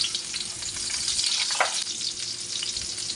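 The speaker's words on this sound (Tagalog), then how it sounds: "At pag mainit na, igisa na natin yung bawang, sibuyas," Garlic and onion sauté in hot oil for squid adobo, giving a continuous bright sizzle with faint stirring, close and steady throughout with no talking.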